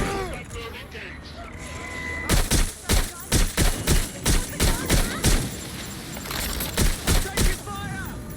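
Rapid gunfire bursts ring out in a Watch Dogs Legion firefight: loud, rhythmic volleys of shots with a brief pause between two runs, over a busy game soundscape with voices talking.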